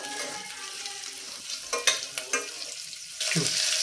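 Food sautés in a hot pan with a steady sizzle, while a spatula scrapes and stirs in several sharp strokes, close and fairly loud.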